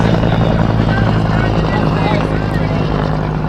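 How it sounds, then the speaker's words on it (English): A military helicopter passes overhead, its rotor thump and engine drone forming a loud, continuous pulsing roar that dominates the scene, with voices talking underneath. "Sounds like a military chopper."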